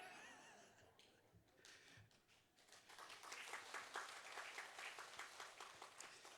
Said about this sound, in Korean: 이렇게 못 불러서 박수 받는 건 처음입니다.